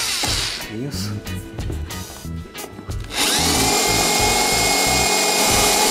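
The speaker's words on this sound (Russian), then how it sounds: "Сверлим отверстия." A loud power drill whirs into material, drilling holes for a TV mount, starting after a short stretch of mixed noise and then holding a steady, high whine.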